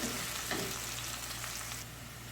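Onions frying in a pan for a zucchini and potato sabzi, a steady close sizzle that holds evenly throughout and eases slightly near the end, with a low hum beneath.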